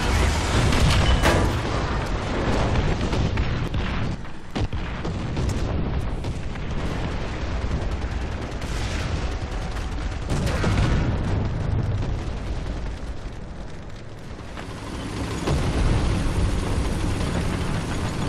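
Tank cannon fire in War Thunder ground battles, heard as continuous loud booming and rumbling explosions, with dense, heavy blasts filling the whole stretch and brief dips between them.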